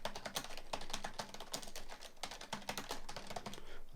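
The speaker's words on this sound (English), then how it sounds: "That's just me typing my name and random stuff again." Fast, continuous typing on a computer keyboard, picked up by an Antlion ModMic Wireless headset microphone, a rapid clatter of key presses close by with brief uneven pauses.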